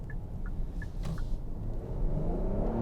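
A 2022 Kia Carnival SX Prestige minivan accelerates from low speed on a city street, its engine a low, steady rumble that rises gradually, heard from inside the cabin with some faint chimes early on.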